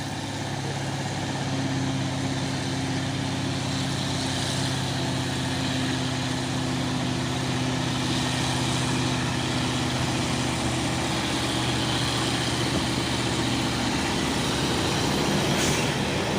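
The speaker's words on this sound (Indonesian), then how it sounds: "Masuk lagi satu unit truk trailer" A container trailer truck labours up a hill in a climbing convoy, its engine a steady, heavy low drone with droning harmonics that holds loud and close for the whole stretch, briefly rising near the end.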